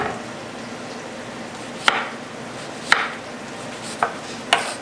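A knife cuts an onion into moon-shaped pieces on a cutting board, giving four distinct, crisp chopping thuds at uneven intervals over a quiet kitchen background, with no talking.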